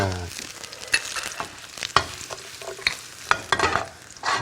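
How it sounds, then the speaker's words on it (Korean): Sliced garlic sautés in olive oil in a preheated pan for cream pasta, a quiet crackling sizzle punctuated by sharp utensil clicks and scrapes against the pan. "슬라이스한 마늘을 조금 볶아주시고요"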